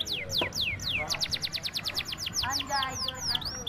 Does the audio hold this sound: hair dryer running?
no